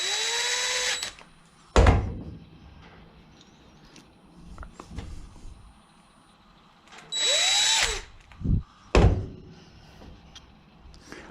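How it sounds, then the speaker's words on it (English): An impact driver fitting new bolts on an Echo carburetor fires in short loud bursts, two long whirring runs with quick hammering thunks and clunks between them, in a quiet workshop. "I'm just using an impact right now to make it faster"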